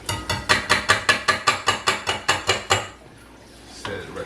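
A metal whisk attachment knocked and rattled against a mixer bowl while being removed, about a dozen quick regular clinks followed by a brief clatter.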